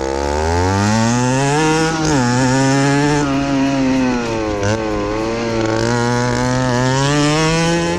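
A 50cc motorbike engine runs loud and close, its pitch rising as it revs, dipping sharply at each gear change, then climbing again.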